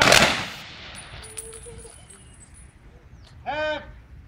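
Rifle volley fired as a Memorial Day salute at an outdoor ceremony in Omaha, Nebraska: a sharp loud crack at the start, then quieter ambience, with commands and a distant bleating-like sound near the end.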